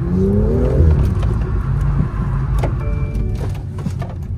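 A car drives a warm-up lap with its front tyres slightly deflated. The engine whirs and revs steadily close by, with a rising tone at the start and light clicks near the end.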